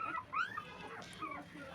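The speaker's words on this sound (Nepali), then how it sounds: "यत्रो कुकुरको बच्चाहरू नि यहाँ कति छ" Young puppies in a litter of six give high, rising whimpering yips in a short close burst, followed by softer whines over a quiet background.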